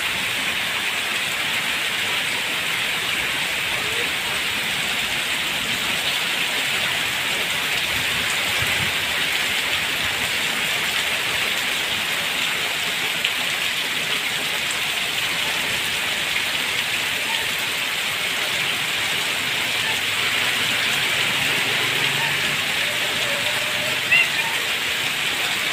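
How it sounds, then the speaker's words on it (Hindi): Heavy stormy monsoon rain pours down in a constant, dense hiss and roar, drumming steadily on surfaces with no letup across the whole stretch. "कितनी ज़्यादा तेज तूफानी बारिश चल रही है बहुत ज़्यादा बारिश है"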